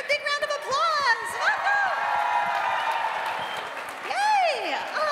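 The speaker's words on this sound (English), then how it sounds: "Give her a big round of applause" An audience at a Sailor Moon panel at Anime NYC 2017 bursts into clapping, cheers and high whoops, loud and close, with voices shouting over the applause.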